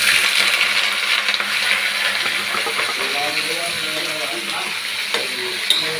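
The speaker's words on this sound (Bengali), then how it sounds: "কড়াইয়ে 5 ফোড়ন দিয়ে দিয়েছি, এবার চিচিঙ্গাটা ঢেলে দিই।" Snake gourd (chichinga) tipped into hot oil tempered with five-spice in a wok, raising a loud, continuous close sizzle that holds steady throughout.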